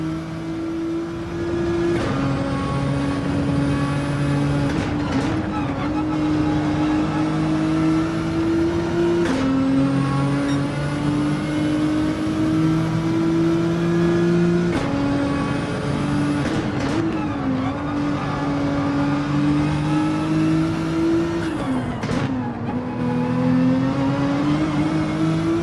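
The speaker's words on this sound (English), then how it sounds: "pushing the car to the absolute maximum that we can" Racing car engine in the Gran Turismo 7 video game, a loud sustained high-revving whine that climbs and drops sharply through repeated gear shifts during a race, with no talking.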